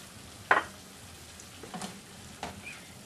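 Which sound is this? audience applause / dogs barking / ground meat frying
ground meat frying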